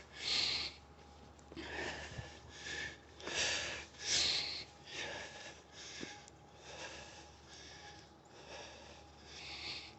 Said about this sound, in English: sorry for my breathing